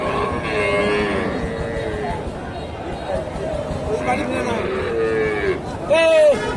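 A cow lowing at a busy cattle market, where Friesian heifers are traded, with several long moos under a constant crowd babble and nearby talk, ending on one louder, closer call.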